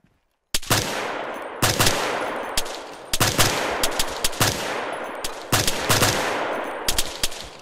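Dense bursts of automatic rifle fire from the Arma 3 military shooter, several loud rapid volleys repeating at regular intervals after a brief silence, with no talk over them.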